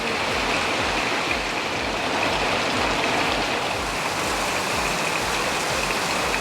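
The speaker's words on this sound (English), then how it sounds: "Heavy means heavy rain." Dense, steady hiss of heavy rain pouring continuously, loud and close, with a low rumbling wash underneath and no voices.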